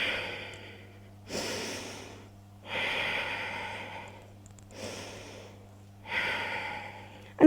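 A yoga instructor breathes slowly through the nose during a core-focused vinyasa practice: five long, audible breaths, each swelling and fading in a steady rhythm, close and clear with no talking.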